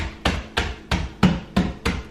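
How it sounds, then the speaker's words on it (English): Seven sharp hammer blows land at a steady rhythm, each a crisp, close thud as Oreo cookies are crushed on a granite countertop, with no voices between the strikes. "We're using a hammer to crumble up Oreos."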